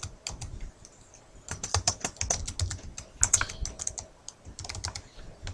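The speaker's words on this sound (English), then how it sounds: "So I'm going to hit enter 1, 2, 3, 4." Computer keyboard keys pressed in a quick series of sharp clicks, including repeated taps of the enter key while a business letter is typed, close and clear with no talking.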